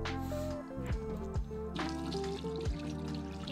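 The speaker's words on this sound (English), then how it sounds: "we pour away that water" Water is poured out of a home film developing tank, a soft trickling and splashing heard under steady background music with sustained tones.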